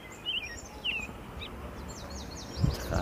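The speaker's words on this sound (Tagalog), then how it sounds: "sa mga huni ng ibon" Several short, high bird chirps come and go over a soft outdoor hush, fairly faint and scattered, with a brief rustle near the end.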